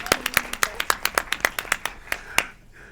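A small group claps for a panelist at a nonprofit panel discussion, a sparse run of distinct close handclaps at an even pace that thins out and stops near the end.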